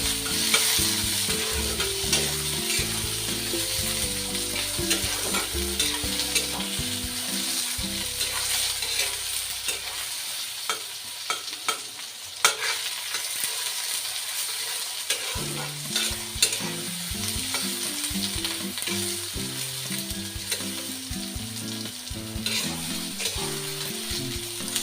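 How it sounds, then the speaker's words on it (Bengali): Eggplant (baingan) pieces fry in a pan, a steady close sizzle with stirring scrapes running through, while a tonal melody plays underneath for most of the stretch and drops out briefly midway. "বেগুনটা একটু লাল লাল করে ভেজে নেবো।"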